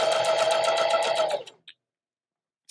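A sewing machine stitching fabric, running in a fast, even mechanical whir for about a second and a half before stopping, followed by a couple of small clicks and near silence.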